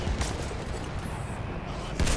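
Artillery shells pound during a Battlefield 1 battle: a dull, rumbling barrage with a heavier boom near the start and another near the end, fairly faint over a constant background roar.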